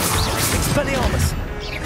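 Expelliarmus spell cast in Hogwarts Legacy, a sharp magical crash and whoosh bursting out amid a busy combat mix, with a voice calling out over it.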